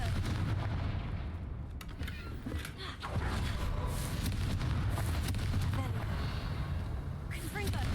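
Confringo fire spells blasting repeatedly in Hogwarts Legacy, a string of loud booming explosions with rumbling low impacts one after another, the caster's voice speaking over them.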